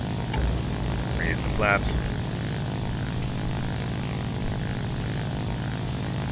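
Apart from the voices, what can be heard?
Fw-190 fighter plane taking off, propeller engine, War Thunder video game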